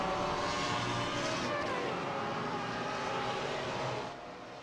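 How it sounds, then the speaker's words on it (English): Dallara race cars in iRacing's X-treme Series roar past as a pack, a dense, steady high-revving engine drone that holds loud throughout before easing off at the end. "Oh my goodness, do these cars sound incredible"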